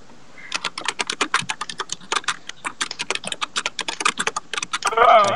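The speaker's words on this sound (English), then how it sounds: "Typing." Fast typing on a computer keyboard: a long run of crisp, close keystrokes in quick uneven bursts, with brief pauses between them. A short rustling noise comes at the very end, and no one talks.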